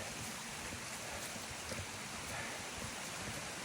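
A creek beside a hiking trail flows in a steady, even rush of water, moderately close and continuous with no voices.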